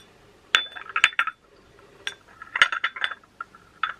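Ceramic dowry plates and cups clink and knock together as they are handled, a series of sharp bright taps in irregular clusters with quiet pauses between, close and alone without speech.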